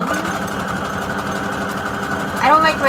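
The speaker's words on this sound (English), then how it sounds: "That's why I sew around the edge of the whole thing." A sewing machine stitches around the edge of a small fabric tag for a junk journal. The motor drones steadily and close for the whole stretch, swelling slightly near the end, under a speaking voice.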